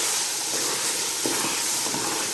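Grated carrot halwa cooks in ghee in a pan, giving a steady, close sizzling hiss with faint stirring scrapes throughout and no talk.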